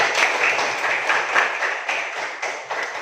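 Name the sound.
applause from children and parents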